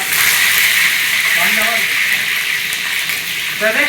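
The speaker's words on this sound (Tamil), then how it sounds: "நண்பா கடுகு போட்டுப்போம்" Mustard seeds and curry leaves fry in hot oil for fish curry, a loud, close, continuous sizzle with a few pops, with faint voices underneath.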